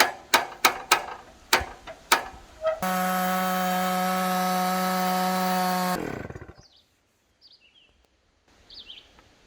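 Chainsaw mill slicing through a cedar log: after several sharp knocks, the saw roars steadily and loud for about three seconds, then winds down into quiet with faint ticks.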